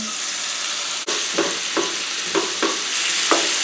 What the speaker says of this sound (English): start with some butter, a little olive oil, throw that tuna down